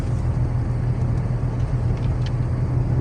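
Steady low engine rumble and road noise from inside a car driving between mushroom-picking spots, constant and fairly loud with no talking.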